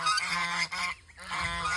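A duck calls loudly and close by, giving a run of harsh, nasal honking quacks with a brief pause partway through.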